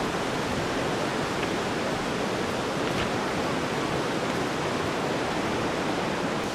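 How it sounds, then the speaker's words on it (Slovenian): Štrbački Buk waterfall on the Una river roars as a dense, steady wash of falling water, loud and close, with no voices. "Nahajamo se na Štrbačkem Buku, to je zelo veličasten slap, ki ga vidite tukaj"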